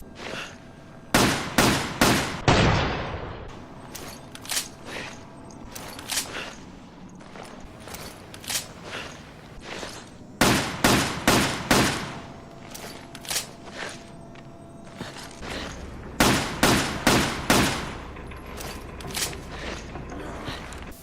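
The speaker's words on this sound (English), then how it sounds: "Now for the next handgun, the Heckler Koch P8." Heckler Koch P8 handgun fires in bursts of sharp, loud reports in Resident Evil 5, several quick shots per volley separated by quieter pauses with mechanical clicks.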